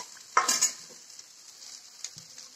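Eggplant and spinach sizzle quietly in a pan while a utensil scrapes and stirs, with one sharp clatter near the start and a few softer knocks after.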